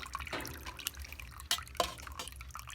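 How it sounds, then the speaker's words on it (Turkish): Whey drips from homemade lor curd cheese as it drains, a few faint, scattered drops and trickles in a quiet room with no talking. "şöyle mesela suyunu süzüyoruz. Su birikiyor çünkü üstüne."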